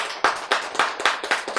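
An audience clapping in brisk, fairly regular bursts, close and moderately loud, with about six distinct claps over a short stretch and no voices.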